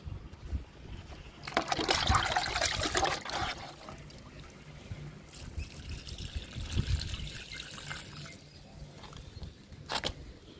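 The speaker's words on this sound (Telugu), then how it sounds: "ఈ మొక్కకు కూడా లిక్విడ్ ఇస్తున్నాను." Liquid fertilizer poured onto a heat-stressed red vinca plant, making close trickling and splashing in two main bursts with quieter dribbles and a brief splash at the end.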